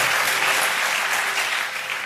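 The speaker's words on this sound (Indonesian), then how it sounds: "Tepuk tangan bagi Tuhan." Church congregation claps together in praise at a worship service, a dense, steady wash of applause that holds at full strength for about two seconds with no voices over it.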